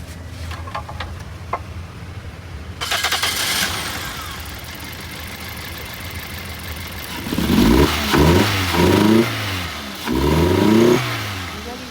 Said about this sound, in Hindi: गाड़ी रेस में लग पड़ी है